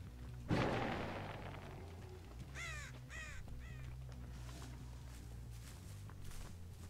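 Crows caw several times in quick bursts in the middle of a Dead by Daylight match, over a low ambient drone, after a heavy thump at the start.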